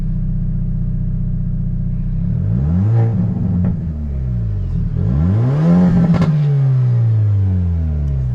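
A 2023 Hyundai Elantra N with a six-speed manual, finished in ceramic white, pulls away with its engine revving up through rising pitch sweeps, dipping briefly as if between gears, then climbing strongly again, loud and close throughout.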